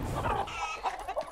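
The rooster Chicharrón in the video game Far Cry 6 clucks in a quick series of close, throaty calls over a brief burst of background game noise.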